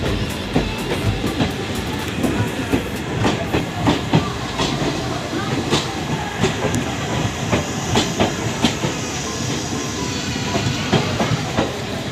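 The Puri Jaynagar Weekly Express rolls along the rails near Madhubani in Bihar, heard from inside a 3rd AC coach: a steady rumble with repeated clickety-clack wheel beats over the track, loud and continuous.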